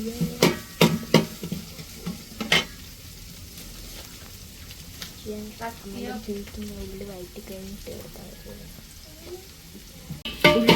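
Onions frying in a pan for a beef fry give off a steady, close sizzle, broken by a few sharp utensil knocks and stirring clatters. A faint voice may sit under the cooking sounds.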